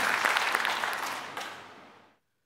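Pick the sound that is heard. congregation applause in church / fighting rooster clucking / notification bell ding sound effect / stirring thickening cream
congregation applause in church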